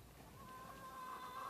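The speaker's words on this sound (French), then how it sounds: "Mais oui les poules." Chickens clucking in a garden, faint and somewhat distant, a short stretch of soft rising calls over quiet background.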